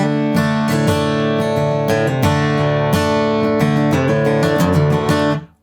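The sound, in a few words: Martin HD28 herringbone acoustic guitar played unplugged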